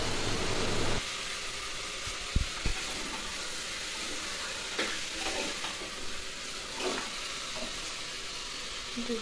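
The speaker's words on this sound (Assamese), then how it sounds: "অলপ অলপকৈ দি লৰাই লৰাই ভাজিছে" Rice stir-fried in a hot pan, added bit by bit and constantly turned: a steady, close sizzling hiss with soft scraping stirs throughout and a couple of sharp clinks of a utensil against the pan.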